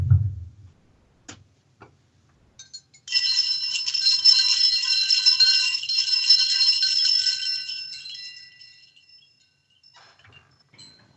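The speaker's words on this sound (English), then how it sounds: "So here is glass wind chime test number 1." A glass wind chime rings out in a bright, shimmering cluster of tinkling tones that sustains for several seconds and slowly fades, after a soft bump and a few isolated clinks, alone with no talking.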